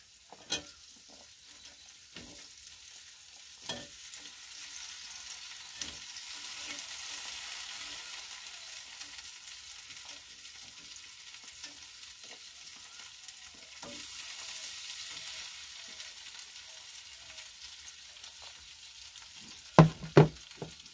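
Potatoes fry in a pan with turmeric, giving a soft, low sizzle broken by scattered scrapes and knocks of stirring, with louder clatter near the end.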